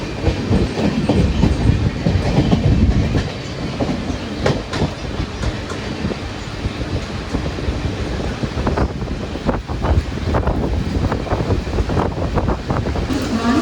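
An Antyodaya Express between Mangaluru and Kochuveli rolls slowly along the rails, heard from inside a general coach: a continuous low rumble with irregular wheel clicks and clatter throughout.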